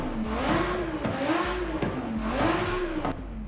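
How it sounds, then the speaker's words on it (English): Car engine revving in the racing game Forza Horizon 5, three loud rising-and-falling rev sweeps in a steady rhythm with a rough, continuous engine drone between them and no voices. "So let's do a quick rev check though first."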